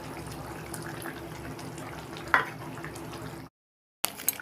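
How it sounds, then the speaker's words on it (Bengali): Coconut milk is poured into a simmering pot of potato curry, a continuous close sizzle and liquid wash with one brief splash before a short cut to silence and a return of the bubbling. "এবারে আমি এই দুধটা দিয়ে দেবো এটা নারকেলের দুধ"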